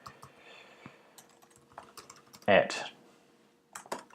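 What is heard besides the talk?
typing on a computer keyboard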